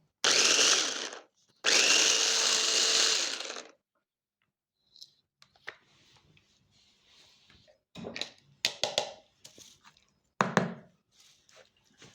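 An electric food chopper grinds garlic in two loud, close whirring bursts, followed by softer clicks and knocks as the container is handled and opened.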